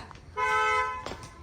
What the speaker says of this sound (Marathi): गाडीचा हरणा कोण वाजवत आहे